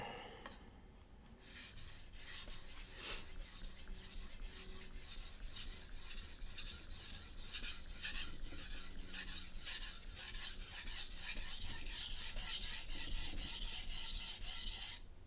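A dull kitchen knife is drawn along a sharpener in a steady series of close, fairly quiet rasping strokes, one after another with no pause.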